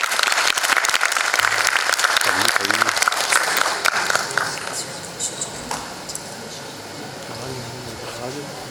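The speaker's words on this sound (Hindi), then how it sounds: "सभी कलाकारों की बेहतरीन प्रस्तुति के लिए एक बार जोरदार तालियां हो जाए" Audience applause follows a stage play performance, a dense, loud burst of clapping that thins out after about four seconds into scattered claps over room noise and a low hum.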